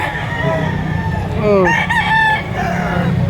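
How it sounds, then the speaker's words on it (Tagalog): A flock of chickens clucks steadily, with roosters crowing in rising, drawn-out calls near the middle. The birds sound close, and a low rumbling background runs underneath. "ito na may maraming manok sa kanila"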